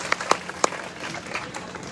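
Scattered applause from a crowd at a Bhim Army political rally in Datia: a few sharp claps, then thinner, quieter clapping trailing off over about two seconds.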